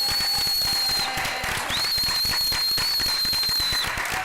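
An audience at a school board meeting cheers and claps for a newly named assistant principal, with loud sustained applause and shrill whistles rising and falling over the clapping for several seconds.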